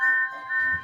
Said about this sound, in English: Stepney season 12 whistle